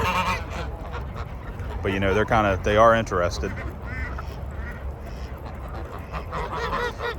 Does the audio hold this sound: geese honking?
yes